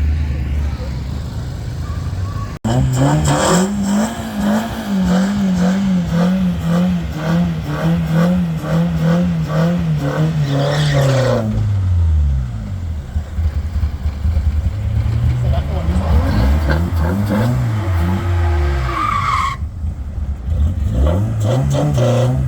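Ford and BMW drag cars launch side by side in a loud, sustained roar of rising engine revs and gear changes, a second pass of acceleration following near the end, with crowd chatter and commentary underneath.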